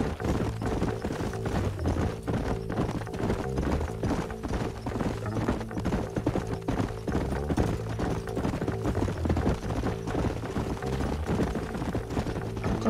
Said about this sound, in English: Cavalo solto ali.